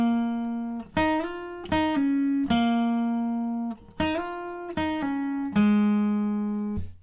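Acoustic guitar fingerpicking the intro lead of a song, clear plucked notes in a gentle repeating pattern, each ringing out before the next, played alone and close.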